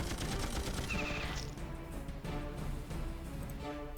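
Rapid gunfire from troops in the Battle Nations strategy game cuts down the last enemy soldiers, dense and continuous, with layered game effects and music throughout.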